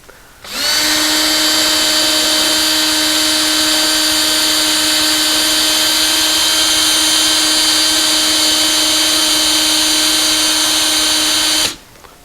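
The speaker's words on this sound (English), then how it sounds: "Just chuck it up the drill." A power drill whirs at a steady high speed spinning a brass wire brush, starting and stopping abruptly after about eleven seconds of continuous sound.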